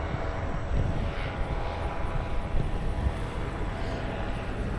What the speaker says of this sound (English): He's warming up the powered parachute.